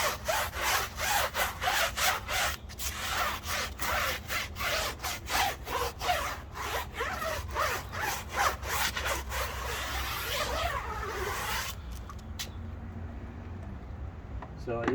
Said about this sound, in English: brush is rinsed off and we'll scrub it again